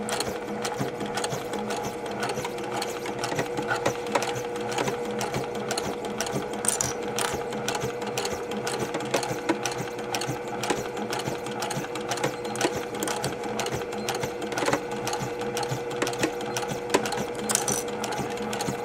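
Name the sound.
sewing machine stitching quilt block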